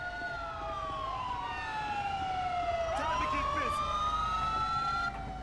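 Police siren from a modded emergency vehicle in GTA 5 with LSPDFR, a wailing tone sweeping down then up again with layered overlapping siren tones, over low traffic rumble.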